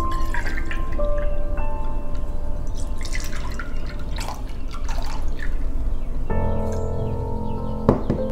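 Regular milk, two cups, pours into a bowl or pan for custard in a home kitchen, a steady close liquid stream with dripping splashes, ending with a brief clink.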